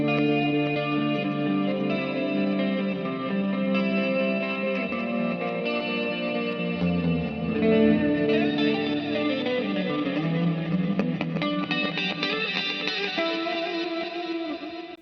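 Electric guitar through a Harley Benton DNAfx GiT Pro with classic chorus, reverse delay and plate reverb, playing sustained shimmering chords and notes that swell and smear into a lush, echoing wash with no talking.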